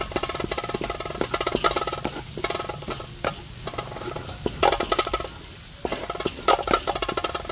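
Leftover steamed rice frying in a pan for fried rice, a steady close sizzle broken by repeated scraping and stirring strokes throughout.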